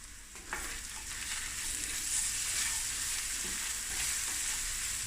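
Tomato paste and polony sizzle and fry steadily in a pan, with soft scraping stirs throughout.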